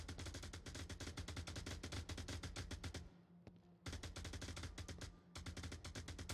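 Sustained automatic gunfire from a drum-magazine weapon in the VR shooter Onward, a rapid, evenly spaced stream of loud shots that stops briefly twice before resuming, with no talking over it.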